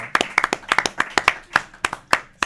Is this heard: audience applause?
yes